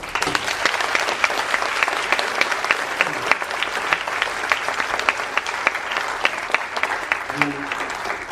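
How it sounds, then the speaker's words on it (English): A high school humanities symposium audience applauds the students, with dense, steady clapping that holds through the whole stretch and a voice briefly rising near the end. "Give yourselves a round of applause."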